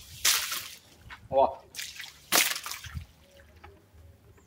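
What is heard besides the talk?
water thrown onto a freshly plastered wall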